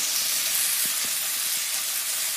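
Beef stir-frying in a hot pan gives a loud, steady sizzle, with a few brief spatula scrapes and knocks cutting through the continuous hiss.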